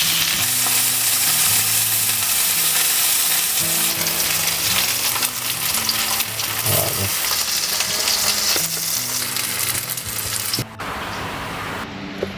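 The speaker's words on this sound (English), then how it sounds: "Now, grilling fish, super simple." Fish sizzles loudly in hot oil on a grill at a campsite, a dense, steady crackle and spit that continues throughout and drops off slightly near the end.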